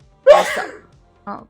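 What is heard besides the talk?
sneeze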